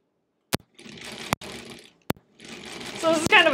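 A 1938 Kenmore model 38 sewing machine sews half-square triangle quilt rows in short whirring runs broken by sharp clicks, close up and loud, with no talk over it.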